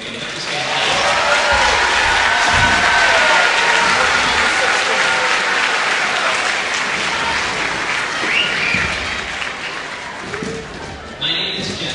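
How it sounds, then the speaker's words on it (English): Sustained applause from a school spring concert audience for the fifth grade band, loud and dense for about ten seconds before thinning out, with some voices mixed in. "Can we get another round of applause for the fifth grade?"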